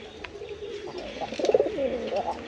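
Pigeons, a pair of the roshgolla breed, coo close by in low rolling throaty notes that swell and grow louder toward the middle before trailing off, without talk.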